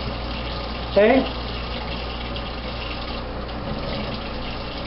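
Tap water runs steadily over tomatoes in a kitchen, a faint continuous wash with a brief louder splash early on, and a voice speaks once.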